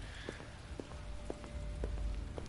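Sleet or rain patters steadily in the video game Detroit Become Human, a continuous wash with soft periodic knocks and drips about every half second, heard alone with no talk.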